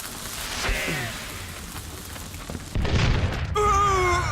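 Dynamite explosion in Call of Juarez: Gunslinger, heard as a deep low boom rising out of game ambience with crackling debris. Loud and close, with tonal music-like sounds following.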